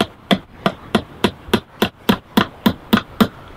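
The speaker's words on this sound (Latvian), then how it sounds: "Nagla ir jāsit caur šo caurumu, lai viņa trāpīt tieši tajā vietā, kas viņai paredzēta" A hammer drives a nail into a wooden starling birdhouse, striking twelve loud, even blows in a steady rhythm, close by with no talk.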